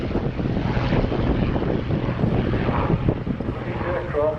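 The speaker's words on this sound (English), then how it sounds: "to the right, the Hawker Hurricane" Hawker Sea Hurricane flying at an airshow at the Shuttleworth Collection, a continuous broadband propeller-engine drone with heavy wind buffeting on the microphone, steady and fairly loud throughout.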